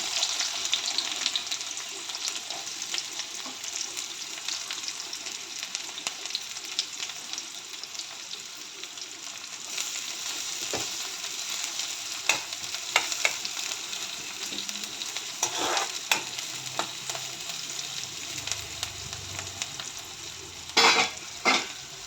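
Cumin, garlic slices and onion fry in oil with a continuous close sizzle, joined by sporadic scraping stirs and clinks against the pan, no voices.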